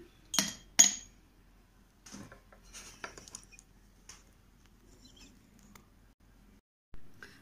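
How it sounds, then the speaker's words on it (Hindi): Ice cubes clinking into a glass of freshly squeezed lemon juice, two sharp close rattles at the start followed by scattered lighter clinks and knocks, then a final tap, in an otherwise quiet room. "इसमें मैं बर्फ़ के क्यूब्स डालूंगी"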